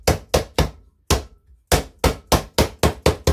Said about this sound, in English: rubber or copper mallet, tap him down